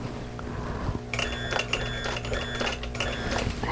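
A sewing machine stitches a butterfly quilt block in short freehand bursts, its rapid mechanical whirring starting after a brief quiet pause and running fairly close and steady.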